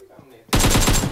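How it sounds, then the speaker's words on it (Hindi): A battle royale match erupts into loud, close automatic gunfire after a quiet start, with a rapid burst of rattling shots filling the second half. "shots has been fired"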